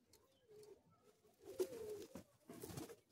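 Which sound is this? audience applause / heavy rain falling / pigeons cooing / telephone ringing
pigeons cooing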